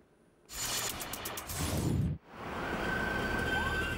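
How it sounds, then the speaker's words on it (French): A siren wails at night in Kuala Lumpur, Malaysia, starting abruptly with a loud, steady tone, cutting off briefly near the middle, then resuming with a rising, sustained wail. "Comme chaque soir, une sirène retentit dans la nuit malaisienne, le signal qu'une rafle est en cours."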